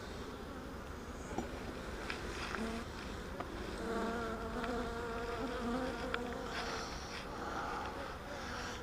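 Swarm of honeybees buzzing steadily around a beekeeper working a hive in the shade, a continuous layered drone with individual bees flying close past at moments.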